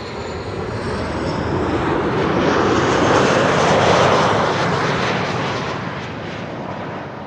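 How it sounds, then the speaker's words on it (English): Engines of a Boeing 747 at Amsterdam Schiphol Airport roar loudly as a broad, sustained jet rumble that builds to a peak and then slowly fades, with no voices. "You can hear the engines of the 747"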